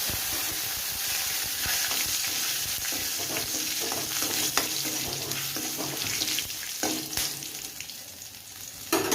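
Cumin seeds and dried red chillies sizzle in hot oil for a dal of mixed vegetables, a dense, close crackling hiss that runs throughout, with light stirring scrapes and no voices.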